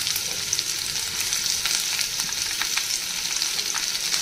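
Chopped onion and green chili fry in a pan with a constant crackling sizzle and light stirring.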